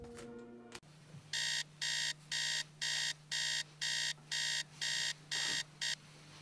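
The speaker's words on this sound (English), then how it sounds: "he can hear a clock alarm begin to ring" A bedside alarm clock ringing to wake a boy in the morning, a loud electronic beeping in about ten evenly spaced bursts over a steady low hum, following a brief muffled sound.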